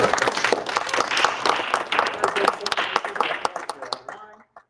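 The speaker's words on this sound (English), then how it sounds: "Oh, go ahead and applaud." An audience applauds at a chapter gathering honoring a member's 20-year milestone, with dense clapping that thins into scattered claps and stops near the end, and a voice is heard over it.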